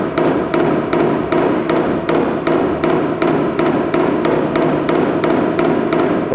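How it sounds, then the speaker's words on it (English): A hammer strikes a metal car panel during paintless dent repair in a steady, even rhythm, about two blows per second, loud and close with a ringing edge to each hit. "if you've been hammering down all day like this or with a paddle"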